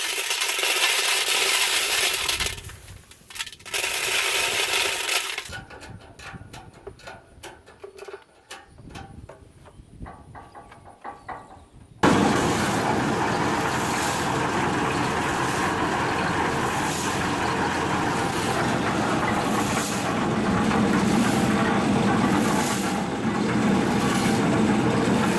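Dry stones tumble and rattle inside a metal fuel tank as it turns to clean it. The loud, gritty clatter stops briefly, then some clicks and knocks follow, and the continuous rolling rattle resumes.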